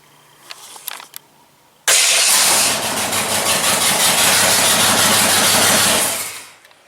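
A prerunner truck engine on new 1000 amp batteries fires up after a few faint clicks, then settles into a loud, steady close idle that fades out near the end.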